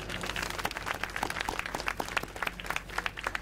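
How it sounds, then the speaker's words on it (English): Applause from a crowd at a school topping-off ceremony, fairly quiet and distant clapping with a lively, uneven patter lasting a few seconds. "they all deserve a round of applause"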